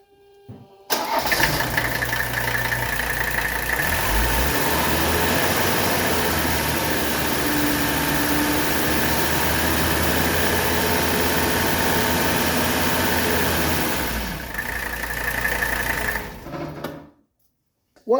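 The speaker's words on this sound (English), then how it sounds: "we'll fire up the engine, let that circulate around, and then let it sit for about 10 minutes" A 1983 Mercedes 300D diesel engine starts and then runs at a steady, loud, clattering idle close by for about fifteen seconds before it is shut off.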